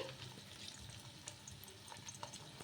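Tomato and wheat flour batter with egg frying in a pan over medium heat, giving a steady soft sizzle with faint crackles throughout, close and continuous with no talk.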